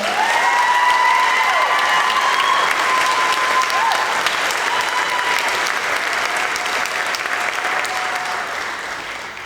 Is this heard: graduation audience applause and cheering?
yes